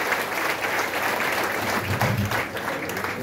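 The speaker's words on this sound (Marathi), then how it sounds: "एकदा आपण त्यांच्यासाठी जोरदार टाळ्या वाजवू." An audience at a lecture hall talk claps hard together, a dense, even wash of applause that holds steady at full strength for the whole stretch without cheering.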